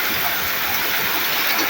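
Heavy storm rain pouring down steadily, a dense loud hiss filling the whole moment without a break.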